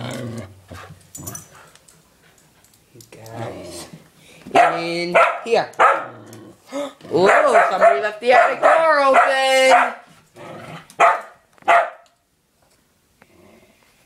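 A dog barks and whimpers indoors in a house near an open attic door, with loud close yelps and whines mixed among children talking over it.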